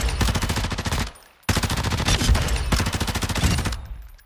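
A gun in Call of Duty DMZ fires in three long, loud, rapid automatic bursts, close and evenly paced, with short pauses between bursts.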